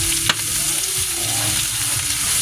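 Pork humba frying and being stirred in hot oil, a steady broadband sizzle with soft scraping stirs and one sharp clink early on, close and continuous with no talking.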